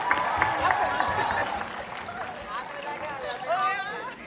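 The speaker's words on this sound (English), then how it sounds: "Let's give them a tremendous round of applause" Applause from an audience at a college hackathon event, celebrating the selected teams; it is spread through the background beneath loud, continuous talk and a busy crowd hubbub.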